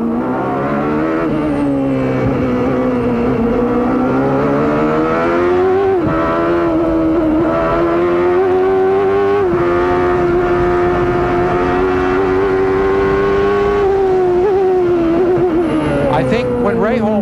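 CART race cars with Ford engines, 1993 Toronto street round, drone loudly and continuously, pitch rising and dipping through gear changes, while a commentator talks over the engine noise throughout.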